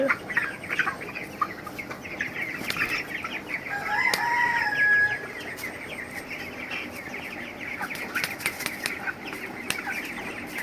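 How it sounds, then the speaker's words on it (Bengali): Three-week-old broiler chicks on a poultry farm eat feed. Their soft clucks and chirps continue throughout, with a rustle of flapping wings and a short louder call around the middle. There is no talk. "এটা আমানের বাচ্চা আমানের খাবার খাচ্ছে"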